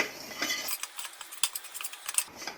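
A spoon scrapes and clinks against a metal pot in quick repeated strokes, stirring spices for kadhi, with a soft sizzle underneath, close and steady.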